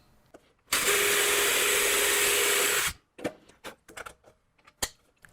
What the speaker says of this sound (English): So I'll drill a 1/4-inch hole in the housing